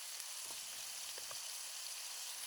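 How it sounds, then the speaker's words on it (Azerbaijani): Onion, pepper, carrot and potato frying in oil give a steady, close, bright sizzle that hisses on without a break, with a few faint pops and crackles. "Soğandır, bibərdir, kökdür, kartofdur. Bunları da elə həmən o yağda qızardırıq azca."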